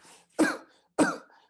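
Two dry coughs, close and fairly loud, separated by a short pause, with a faint breath before the first.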